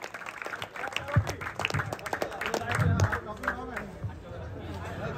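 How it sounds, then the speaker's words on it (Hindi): Applause and crowd chatter at a local football tournament final on a maidan, scattered clapping mixed with babbling voices and a brief swell of cheering, fairly faint and continuous. "जोरदार तालियां लाल चच्चे के लिए"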